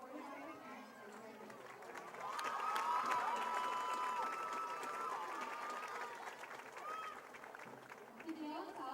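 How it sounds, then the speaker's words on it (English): An audience at a high school football broadcast applauds an award winner, a crowd clapping and cheering in a large open setting with voices talking over it, swelling in the middle and settling back into chatter. "Please give a round of applause for our winner, Autumn Okoye"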